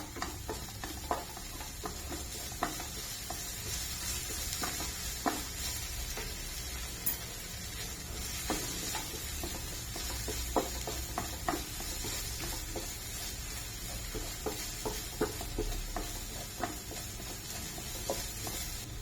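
Ginger masala frying in oil in a pan while prawns chilli is cooked, a steady close sizzle broken by scattered stirring scrapes and ticks throughout, with no talk.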